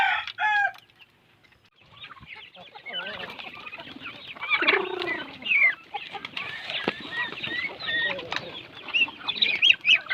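Chickens, geese and turkeys on a farm of native and heritage birds make a busy chorus of clucking and calling, with a rooster crowing and wings flapping, the calls overlapping and coming close.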